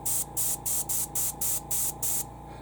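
Airbrush spraying Stynylrez metal primer on compressor air, heard as eight short, evenly spaced bursts of loud, close hiss with a steady low hum from the compressor underneath.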